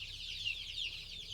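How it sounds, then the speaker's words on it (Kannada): Young chicks being fed soaked crushed corn, soft overlapping clucks and cheeps going on continuously at low level, close by. "ನಮ್ಮ ಕೋಳಿ ಮರಿಗಳಿಗೆ ಇದನ್ನು ಫುಡ್ಡನ್ನ"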